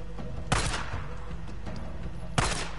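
Gunfire in Days Gone, two loud close shots a couple of seconds apart over a steady low rumble of game ambience.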